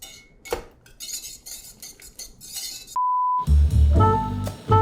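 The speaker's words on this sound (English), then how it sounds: "Let me just give it a whisk firstly." A whisk clinks and scrapes against a pot of boiling water and cornmeal while Botswana pap is being made, with quick metallic taps, a brief tonal beep, then louder stirring and rattling.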